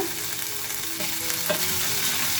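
Ginger garlic paste frying in a pan over a medium flame gives a close, steady sizzle with light stirring scrapes and no voices.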